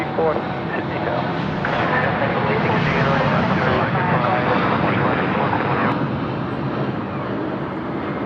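An Air Canada heavy airliner departing Sydney Airport on a trans-Pacific run to Los Angeles, a steady loud jet engine roar holding throughout, heard from a spotting position near the runway.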